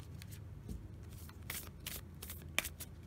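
A matte-finish deck of crystal chakra oracle cards is shuffled by hand, giving soft, quiet riffles and papery flicks in uneven bursts, with one sharper snap near the end.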